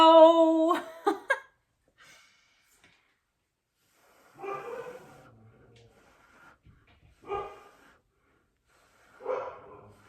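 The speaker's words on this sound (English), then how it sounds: "Sorry if you can hear them barking." A few barks from a dog, spaced out at a moderate distance, with quiet pauses between them and some brief louder noise at the start.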